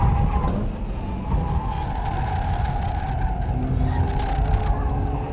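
Car on Honjo Circuit spinning its wheels on normal tires, a loud sustained engine drone with a squealing tire tone running over it throughout.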